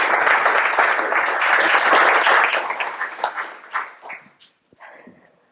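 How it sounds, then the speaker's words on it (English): Audience applause for a speaker at a talk, loud and dense clapping at first, then thinning into scattered claps that trail off to near silence. "Give Erin a round of applause"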